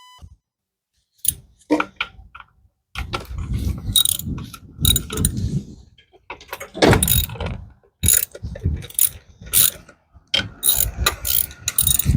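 A ratchet backs out small T30 Torx bolts on a Fiat 1.4L turbo oil cooler, giving close, crisp clicking bursts in several separate runs with short pauses between them.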